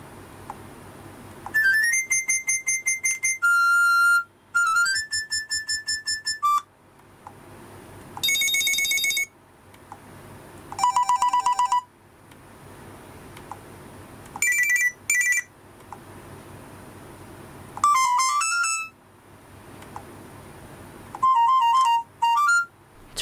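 Old mobile phone ringtones and alert sounds play one after another, a series of short electronic melodies and beeping chimes separated by brief silences, clear and close with no talking.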